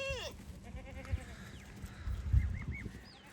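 Goats bleating at a farm pen in a rural Indian village, several wavering bleats from nearby animals overlapping, with low shuffling and thumping noises beneath.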